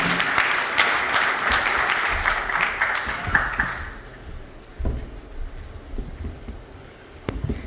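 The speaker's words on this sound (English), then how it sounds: "Let's give her a round of applause." An audience applauds at the Kenya National Food Systems Summit, a dense burst of clapping for about four seconds that then fades to scattered claps and room noise.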